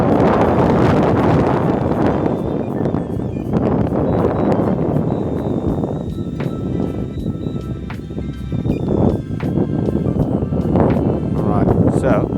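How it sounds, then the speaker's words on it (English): Strong gusting wind buffets an FPV drone's microphone outdoors, a loud continuous broadband roar with rustling bursts throughout, and voices are heard under it. "Oh, it's super windy, it's struggling."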